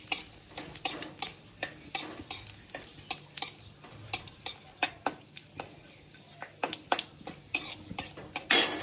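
Mustard seeds and dry red chillies fry in a kadai, giving a run of sharp irregular pops and crackles, some close and loud, spread over a low sizzle with no talk.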